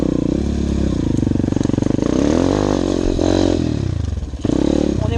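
A 125cc motocross motorcycle climbs a wet forest slope in second gear, its engine droning loud and close with steady revving and pitch swells, a brief dip near the end before the throttle picks back up.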